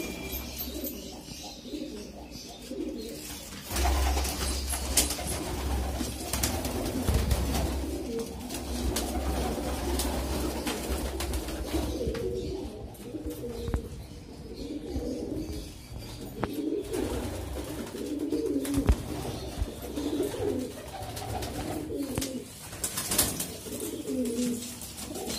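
Gola pigeons coo repeatedly over a steady background hum, with scattered soft clicks and rustles throughout.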